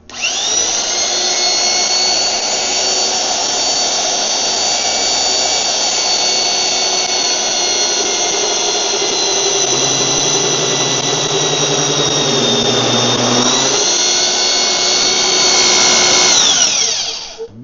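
A power drill, apparently a magnetic-base drill, bores into metal on a gate project. It gives a loud, steady high-pitched whine and squeal that runs for about seventeen seconds with no voices, wavering slightly and winding down at the end.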